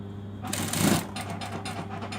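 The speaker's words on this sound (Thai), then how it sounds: "เวลาเราเย็บไปเราต้องดึงเนี่ย เราต้องดึงยางออกมานะคะเพื่อให้ เรามีพื้นที่ในการเย็บ" A sewing machine stitches an elastic waistband into fabric, a short close burst of rapid mechanical whirring, with someone talking over it.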